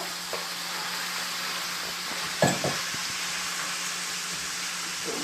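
Ground meat for pâté chinois frying in a pan, a steady close sizzle with occasional scrapes and clinks of a utensil stirring against the pan, no voices.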